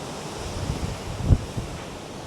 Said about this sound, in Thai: ลมแรงมาก ๆ หนาวเลยครับ